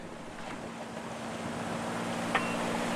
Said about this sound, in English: You can see WildChild motoring in against the current.